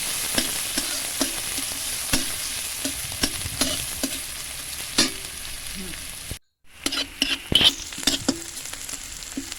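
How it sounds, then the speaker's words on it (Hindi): Finely chopped onions fry in a pan for veg momos, a continuous close sizzle broken by stirring clinks and spatters, cut briefly by a moment of silence before the frying resumes, with no talk. "मैं बारीक कटी हुई प्याज डाल लेती हूँ। इसको मैं 10 सेकेंड तक पका लेती हूँ।"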